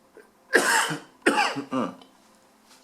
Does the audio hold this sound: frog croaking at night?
no